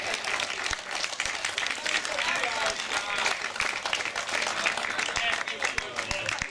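A live audience at a Hungarian stand-up style show claps steadily, a dense wash of many hands with sharp individual claps standing out, sustained evenly from start to finish.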